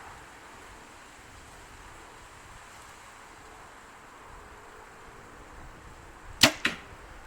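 Two quick arrow releases from a Gearhead Archery B36 compound bow, sharp snaps close together near the end after a long stretch of quiet outdoor wind.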